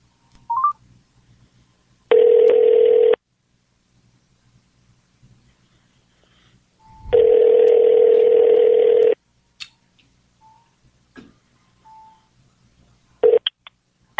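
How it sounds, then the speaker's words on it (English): Telephone keypad tones beep, then a steady dial tone sounds in two loud sustained stretches separated by quiet, with a few short blips between and after them, as a phone call is placed. "make this phone call here"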